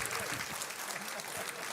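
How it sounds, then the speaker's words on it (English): Workshop audience applause, a brief steady patter of clapping from a small group, heard fairly faintly and without a clear start or stop. "Give them a round of applause"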